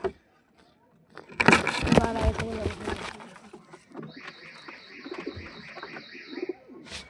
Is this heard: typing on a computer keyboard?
no